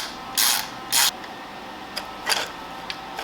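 A ratchet clicks on a fuel system bolt of a Subaru WRX EJ205 engine: two quick rasping pulls, then fainter scattered clicks close by in a quiet garage.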